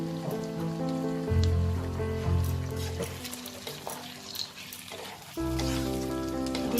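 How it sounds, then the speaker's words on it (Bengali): Ginger garlic paste hits a pan of fried onions and sizzles steadily throughout, with a crackling, rain-like texture partly masked by background music. "এবার আমি এই 1 চামচ আদা রসুন"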